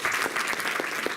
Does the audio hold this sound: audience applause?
yes